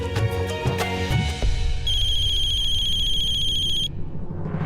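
A phone ringtone plays loudly for about two seconds in a repeating electronic pattern in a Hindi TV drama scene, following some clattering and musical background sounds.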